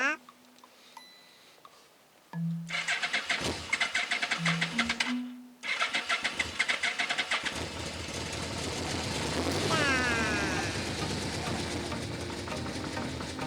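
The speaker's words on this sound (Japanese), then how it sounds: "同じ状況でエンジンをかけてみましょう。" Several short starter attempts crank and stop, then a Yamaha Vmax 1200 motorcycle engine with freshly synchronized carburetors catches and runs with a steady, rattling idle, close and fairly loud.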